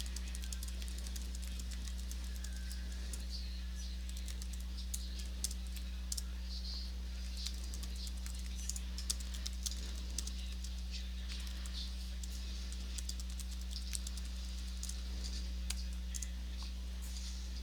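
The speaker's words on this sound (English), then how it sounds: "sorry, I'm typing." Someone types on a computer keyboard, a faint, steady patter of small clicks running throughout beneath a constant low electrical hum.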